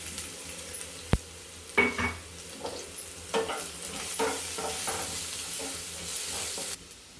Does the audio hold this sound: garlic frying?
yes